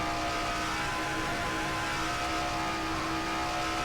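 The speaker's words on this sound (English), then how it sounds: "Riding inside Sakuli's car." Car number 12 in the NNSCRA Castrol GTX Cup Series Winston All Star stock car race, heard from onboard as a loud, continuous engine drone under a dense wash of wind and road roar, steady throughout.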